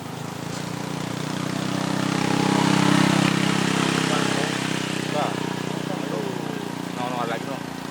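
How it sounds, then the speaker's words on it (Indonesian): Motorcycles pass along a road with a swelling, then fading engine drone, heard from nearby under people's conversation. "nih dua motor nih"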